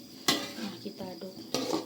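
A utensil stirs food in a cooking pan over a low flame after a little water has been added. Two sharp scraping clacks stand out over a soft, steady background.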